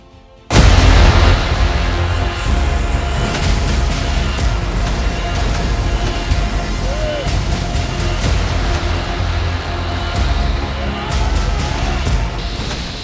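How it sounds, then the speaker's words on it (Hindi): A crumbling mountainside giving way in Uttarakhand during heavy rain: a sudden loud roaring burst followed by a sustained heavy rumble and crashing debris that slowly eases, with faint voices beneath. "दरकते पहाड़ की दहाड़ बेहद खौफनाक है।"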